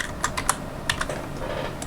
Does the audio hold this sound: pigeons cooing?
no